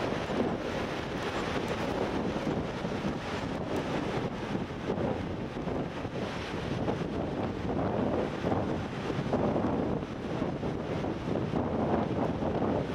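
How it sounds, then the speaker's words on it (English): Steady wind roars and buffets the microphone continuously at Loch Sport surf beach amid fine misty rain, with a low rumbling wash that sounds like open water nearby. "A little bit windy and very fine rain"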